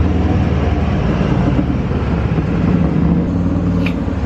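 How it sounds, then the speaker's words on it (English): Cars pass on a nearby street, making a loud, continuous broadband traffic rumble and rush that stays steady throughout, with no speech over it. "I'm right by a street, so it's gonna be very loud with all of the cars passing by."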